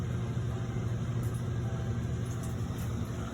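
A steady low whirring hum of a Black and Decker portable washer drum spinning fast to remove water, constant and fairly quiet throughout, with no voices.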